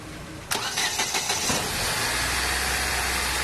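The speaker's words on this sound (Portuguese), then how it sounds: "Motor de partida fazendo todo aquele barulhão, né?" Starter motor cranking a Chevrolet Astra engine, a noisy starter after an engine wash; a sharp start, a rapid rattling crank for about a second, then the engine catches and settles into a steady close idle.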